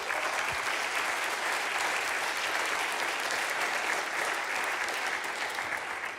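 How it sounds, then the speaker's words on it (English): An audience at a community event gives a loud, sustained round of applause for junior chamber members, dense continuous clapping from a large crowd holding steady throughout. "How about a big round of applause?"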